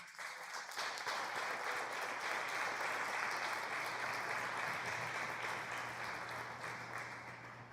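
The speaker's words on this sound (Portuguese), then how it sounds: "vamos aplaudir a Jesus" A congregation at a church service applauds for Jesus, producing a full, steady swell of clapping that rises quickly after a brief pause and then softens gradually, with a low hum underneath.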